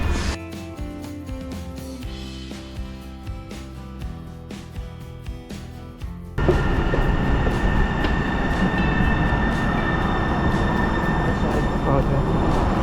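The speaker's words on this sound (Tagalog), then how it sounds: "sasakay naman tayo ng train papunta naman ng University of Washington" A train heading to the University of Washington: after a quieter stretch of steady tonal hum, loud broadband rumble and rushing rail noise take over and hold steady and close for the rest of the ride.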